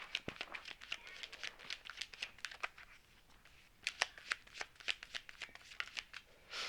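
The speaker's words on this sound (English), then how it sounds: "I'm gonna pull three cards with just tarot." Tarot cards being shuffled and drawn by hand: a quick series of soft papery flicks and riffles, close and fairly quiet, in uneven bursts with a brief lull midway.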